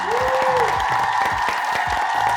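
Applause from an audience at a theatre-related show, a steady close patter of clapping with a brief tonal sweep near the start.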